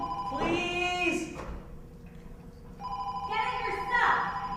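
A telephone rings in two separate bursts of bright, repeated bell tones during a staged play, with a pause of quiet between the rings.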